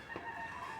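A rooster among kept fowl lets out a brief, faint crowing call that lasts under a second.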